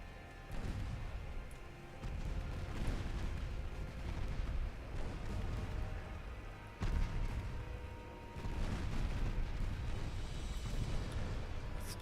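Naval gunfire in the warship game Ultimate Admiral Dreadnoughts: repeated heavy booming salvos roll in one after another, loud and continuous, with a fresh burst of blasts near the middle and again toward the end, and no talking over them.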